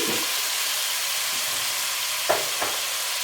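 Tomatoes sizzling with onions in a pan for sambar: a continuous close frying hiss with a couple of brief stirring scrapes near the end.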